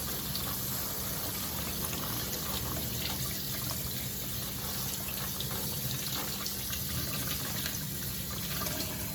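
Tap water runs steadily in a kitchen sink while a raw salmon fillet is rinsed under it, a continuous close hiss and splash with no pauses.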